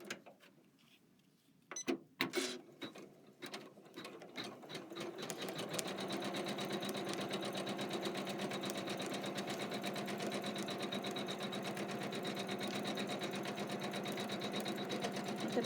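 An embroidery sewing machine stitches a foam tack-down line. Scattered clicks and knocks come first, then the machine settles into a steady, fast, continuous stitching hum that carries on to the end.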